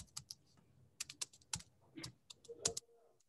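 Typing on a computer keyboard while entering professional tax details into Tally ERP payroll software: quick, close, irregular clicks and taps in short bursts, with brief pauses between them.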